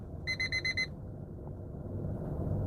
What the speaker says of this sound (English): Oh, my alarm is working.